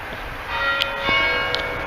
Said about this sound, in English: you can hear the Holy Cross Catholic Church bell